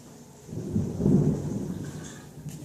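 Deep thunder rolls and swells for a second or two over steady rainfall, loud and fairly close, with no talking.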